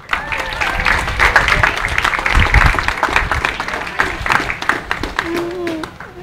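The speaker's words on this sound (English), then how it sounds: "We can give her a round of applause." Audience applause rings out for an honored guest at a Hawaiian hoike celebration on Kauai, a steady wash of clapping that runs under ongoing talk and chatter from the crowd.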